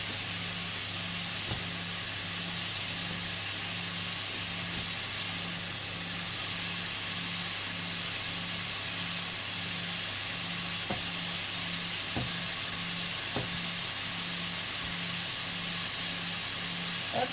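An onion frying in a pan while courgettes are cooked, giving a steady, close hiss and crackle of sizzling oil under a low hum, with no talking.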